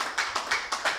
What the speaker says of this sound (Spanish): un aplauso para nuestro Señor Jesucristo